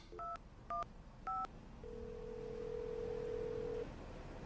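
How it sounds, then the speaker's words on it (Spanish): A mobile phone number is dialed with three crisp keypad tones, followed by a steady ringing tone that holds for about two seconds, quiet and slightly distant. "¿Alguna vez has marcado su número de móvil?"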